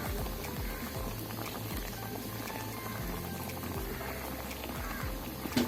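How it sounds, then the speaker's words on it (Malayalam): Shark fish curry with tamarind water simmering in a pot, giving a steady close bubbling and popping with a soft liquid patter throughout and no speech. "അപ്പോൾ നമുക്ക് ഒന്നും കൂടി ഒന്ന് തിളപ്പിച്ചെടുക്കാം"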